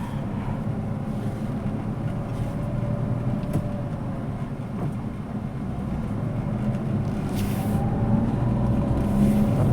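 A car being driven out after sitting unused for many days, its steady engine and road rumble droning continuously from inside the cabin with no one speaking.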